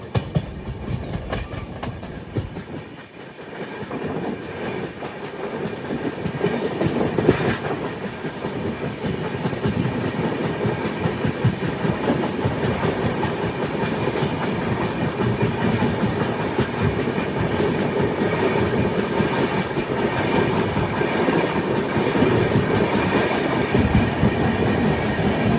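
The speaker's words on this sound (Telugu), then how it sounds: "ఇప్పుడు మన బండికి 2 ట్రైన్స్తో క్రాసింగ్ అవుతూ ఉంది" A Garib Rath Express train running on the tracks from Delhi to Chennai, heard as a loud, continuous rumble with rhythmic clickety-clack of the wheels, steady throughout with no talking.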